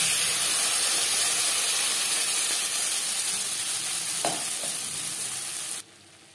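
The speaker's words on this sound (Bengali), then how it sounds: "তিন 4 মিনিট মশলা বেশ ভালো করে কষিয়ে নেওয়ার পর" Spice paste for stuffed pointed gourd fries in oil with cumin seeds in a pan, a loud, steady close sizzle that holds evenly before cutting off abruptly near the end.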